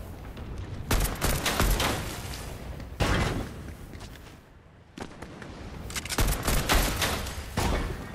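Gunfire in the Fortnite video game, dense rapid bursts of shots cutting in and out over a steady noisy background with no talk.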